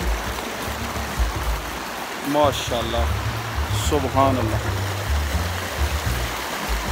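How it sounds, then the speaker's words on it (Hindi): Rushing mountain river in Kumrat, Pakistan: a steady, loud wash of fast-flowing water fills the whole clip, with a voice speaking briefly over it in the middle. "इधर एक अजीब सी जो है ना वो सिर्फ पानी का शोर है"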